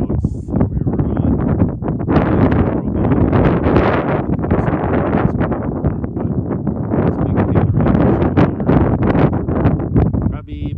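Wind gusting across open desert in Big Bend National Park, buffeting the microphone in loud, continuous rumbling bursts throughout.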